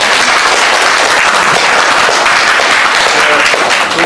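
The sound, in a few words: audience applause at a meeting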